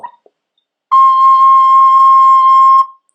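A single high, clear recorder note held steadily for about two seconds, preceded by a brief short toot.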